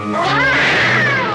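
Cat in the 1957 film The Incredible Shrinking Man gives a loud, drawn-out yowl with rising and falling pitch, close and alone for over a second.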